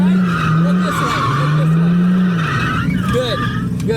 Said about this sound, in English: Now you're going to work on drifting, right?